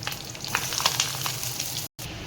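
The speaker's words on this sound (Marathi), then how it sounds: "तर कांदा फ्राय करायला टाकूपर्यंत" Chopped onion fries in a pan for tomato chutney, a steady close sizzle with crackling pops that breaks off in a short gap of silence near the end.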